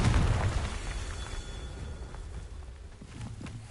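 A Confringo blasting-curse explosion in the video game Hogwarts Legacy sounds as a deep rumbling boom that hits hard at the start and then decays slowly into a fading roar.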